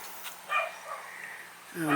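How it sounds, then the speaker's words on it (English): Dog barking and yipping at a house in a suburban Australian street, a couple of short nearby barks, one in the middle and one louder at the end, with quiet background between. "Now my dog's going to bark at me."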